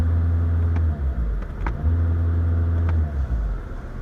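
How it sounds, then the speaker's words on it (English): A 2011 Volkswagen Jetta TDI diesel with DSG gearbox idling in neutral, a loud close low engine drone that holds steady with brief dips and small clicks. "So I'm going to put it in neutral. And I think in neutral is going to rev higher."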